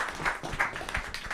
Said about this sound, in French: Applaudissez Natacha Gomez, s'il vous plaît.